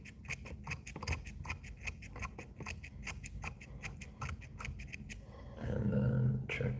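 Scissors snip repeatedly through craft foam while a bass fly is shaped at a tying bench, a quick irregular series of close, crisp clicks, followed by a louder rustle near the end.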